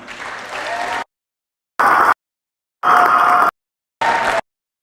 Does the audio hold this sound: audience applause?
yes